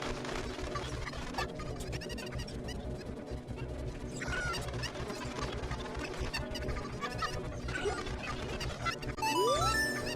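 Chicken (cucco) noises from The Legend of Zelda: Ocarina of Time cluck and gobble in short bursts over a busy, continuous game soundtrack, with a rising chime near the end.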